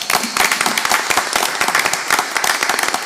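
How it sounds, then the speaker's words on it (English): Audience applause at a school district board meeting, dense, steady clapping from many hands filling the room for about three seconds, loud and close with no talk over it. "let's give him a round of applause"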